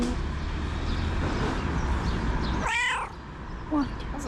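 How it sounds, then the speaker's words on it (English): A talkative cat meows close by, one long wavering call in the middle followed by a shorter meow, over a steady background hum. "That's a very talkative cat."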